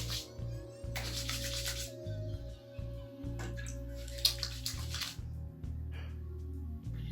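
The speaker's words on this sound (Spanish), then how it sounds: "Un poco de agua." Water running from a tap into a sink while a Korean facial skincare routine is prepared: a steady, close hiss of flowing water with a low continuous hum underneath and a few clinks.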